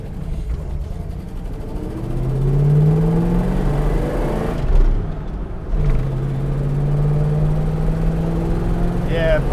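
A car on an open road passes nearby, its engine drone and tyre roar swelling, peaking and fading over several seconds, mixed with the hum of the occupants' own vehicle, a General Lee replica, and scattered talk inside.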